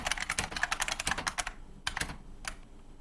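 Typing on a Unicomp Ultra Classic 103-key buckling spring keyboard, a dense run of loud, sharp clacky keystrokes close up that thins into a few isolated presses near the end, with no voices.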